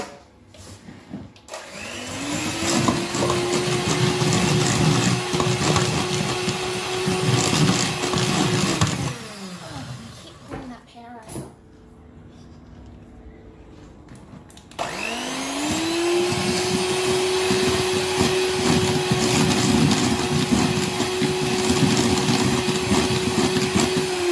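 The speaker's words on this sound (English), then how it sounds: "we are going to now add eggs one at a time, because by whisking them one at a time, it adds a real fluffiness" Electric mixer whisking eggs into brownie batter, a loud steady whir that runs for several seconds, stops briefly with some clatter, then starts again.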